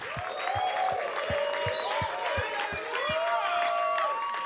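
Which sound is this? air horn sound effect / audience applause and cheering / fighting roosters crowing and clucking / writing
audience applause and cheering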